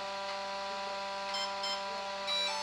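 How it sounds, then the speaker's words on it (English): Atomic 80 amp brushless ESC gives a steady electronic tone while being programmed, with a few short beeps rising over it, close and fairly loud with no talk. "One beep, two beeps. Three beeps, and if you miss, it'll restart over."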